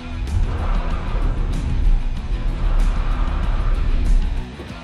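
A Toyota RAV4 Prime in sport mode with EV on and a RAV4 EV launching in a drag race, a loud continuous rush of tire and road noise with light squealing as traction struggles.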